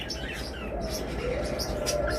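Caged lovebirds, cockatiels and budgerigars at a bird seller's chirp and tweet in a steady, dense chatter, with thin whistled notes rising over constant background noise and no clear talking.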